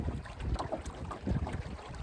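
Outboard motor driving a boat across a trophy trout lake, a steady low churning drone with water slap and wind buffeting the microphone, close and continuous throughout.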